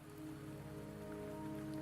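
Steady rain falls in the video game Wuthering Waves, a soft, continuous patter over a layer of low tonal game ambience, quiet and even throughout.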